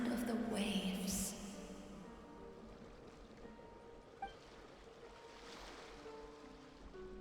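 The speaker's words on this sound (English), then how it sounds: "Go to where you can hear the sound of the waves." Gentle ocean waves wash continuously along a shore in Genshin Impact, soft and distant, with a brief louder rush at the start and a small splash midway.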